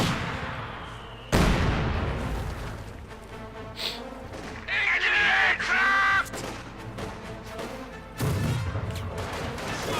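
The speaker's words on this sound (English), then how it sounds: "And the tank rifles firing away." Anti-tank rifles fire in a Company of Heroes 2 battle, sharp loud cracks and booms at irregular intervals over a dense bed of game combat noise and effects.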